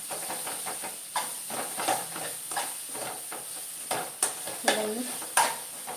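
Fenugreek and ponnaganti greens fry on a high flame with a steady sizzle, while a utensil repeatedly stirs and scrapes the pan in an uneven rhythm of close knocks.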